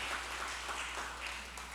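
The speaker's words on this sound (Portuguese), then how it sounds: "Dê um aplauso a Jesus Cristo." A church congregation applauds at the close of a Bible study service, a faint, distant, continuous patter of many hands over a low steady hum.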